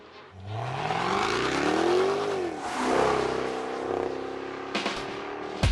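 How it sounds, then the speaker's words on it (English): Jaguar XKR-S with a 5-litre supercharged V8 revs hard, its note climbing in a rising sweep, dipping, then surging again and holding a steady roar before a sharp burst at the end, loud and close with no voices. "The XKR-S adds muscular looks to one of the best engine notes in the business"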